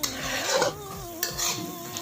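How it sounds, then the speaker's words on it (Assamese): A sweet carrot and sugar mixture for laddu is stirred and fried in a pan, with close scraping strokes of a spatula against metal over a soft sizzle, rhythmic and fairly loud across two seconds. "এয়া মই ভাজিয়ে আছোঁ"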